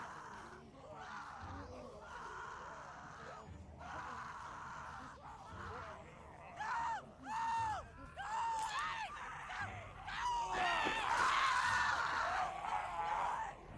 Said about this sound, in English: Why is she just running around screaming when she knows it attracts him?